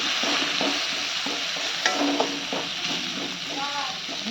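Fish fries in a pan with a continuous close sizzle, punctuated by a few sharp clinks and stirring sounds.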